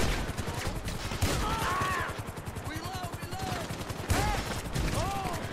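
Sustained automatic gunfire in the video game GTA V at a construction site, rattling in a fast, even rhythm throughout, with someone talking over it.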